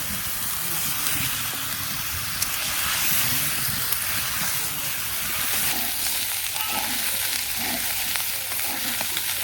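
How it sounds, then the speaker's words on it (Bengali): Meat being sautéed in a pan over a village clay stove, a steady close sizzle and hiss with occasional scraping stirs, no talking. "মাংসটা আর কি ভালো করে কষিয়ে নিই"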